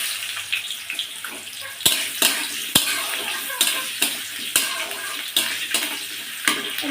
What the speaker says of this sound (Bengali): এবার দিয়ে দিব কেটে রাখা আলুগুলো।